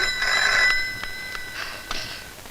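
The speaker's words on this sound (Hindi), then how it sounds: "शायद उन्हीं लोगों का फोन है।" A telephone rings in clear electronic trills, one long ring followed by several shorter bursts, close by with no talk over it.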